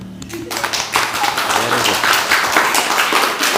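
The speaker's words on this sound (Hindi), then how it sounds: "ताली बजाओ इसके लिए" Schoolchildren clap together for a classmate in a classroom, a loose burst of hand claps beginning after a brief voice and continuing fairly close, with some murmuring over it.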